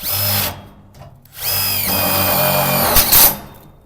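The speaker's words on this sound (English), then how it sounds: "I'm going to screw that in the bottom." A cordless power drill drives a screw into the bottom of a Colorbond steel gate in a few loud, close whirring bursts with short pauses between them, ending in a sharp final grind.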